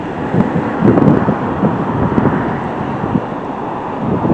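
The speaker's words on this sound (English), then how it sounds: "It's windy here." Strong wind by the Pacific Ocean buffets the microphone in a steady, rough roar with gusty surges, close and fairly loud, with no voices.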